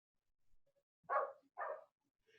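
A dog gives two short barks in quick succession, muffled and somewhat distant in a quiet room, after a few faint small sounds.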